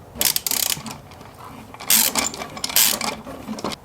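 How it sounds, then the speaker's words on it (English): A wrench tightens a clamp on the fuel line of a Nissan 240SX during an in-tank fuel pump install, making repeated close metallic ratcheting clicks in bursts with short pauses between them. "I'm gonna tighten this clamp up."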